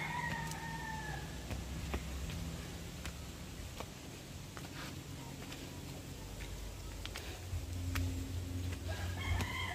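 Chickens cluck and a rooster crows faintly in an outdoor setting, with soft background noise throughout.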